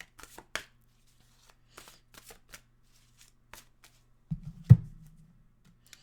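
Tarot cards are shuffled in quiet, short papery riffles and taps scattered across a few seconds, ending with a louder flutter and soft thud as a card is drawn, close and alone.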